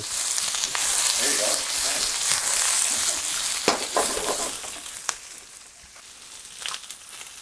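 Celery with onions sizzles loudly in a hot pan while being tossed and stir-fried for a Chinese dish, a steady hiss broken by scraping and clattering stirs, with no talk.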